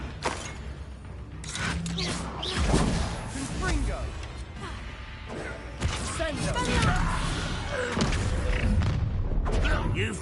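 Explosive Confringo spell in Hogwarts Legacy on PS5, with booming blasts, thuds and creaking mechanisms during combat, mixed with game voices and talk.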